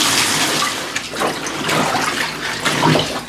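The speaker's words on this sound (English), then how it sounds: "Now we're going to fill this with some cold water, and I'm going to rinse my quilt out." Cold water running steadily into a tub to rinse a quilt, a continuous broad rushing and splashing that stays fairly even throughout.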